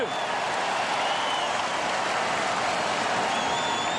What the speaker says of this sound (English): he's shooting this into the teeth of a Conseco Fieldhouse throng, doing everything it can to distract and annoy him